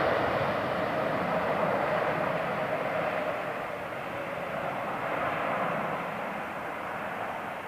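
A heavy airliner arriving on runway 09L at London Heathrow Airport makes a broad, sustained roar of jet engines, heard from a distance, slowly easing off over several seconds, with no speech.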